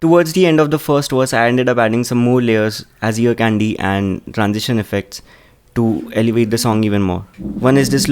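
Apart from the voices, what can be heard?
No everyday noise stands out behind the speech.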